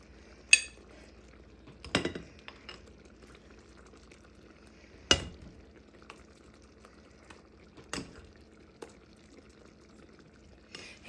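A spoon scrapes and taps against a plate while mashed potatoes are served for bangers and mash, a few sharp, separate clinks spaced several seconds apart in a quiet kitchen.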